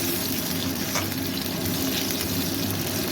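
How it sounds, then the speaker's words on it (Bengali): Onions frying in a pan for tengra fish curry, a steady close hissing sizzle with faint stirring scrapes running unbroken throughout. "পেঁয়াজটা আরেকটু ফ্রাই হবে।"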